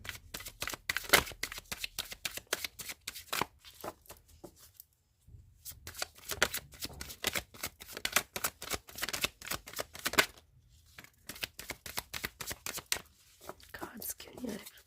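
Tarot cards shuffled up close, quick riffling bursts of papery flicks and slaps that stop briefly twice before starting again, while a voice speaks softly between the shuffles.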